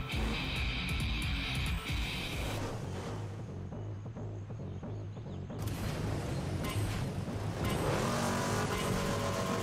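Racing vehicles roar through the PS3 video game MotorStorm Pacific Rift (2008), loud continuous engine drone with passing surges and tire skids, shifting in tone as the race goes on.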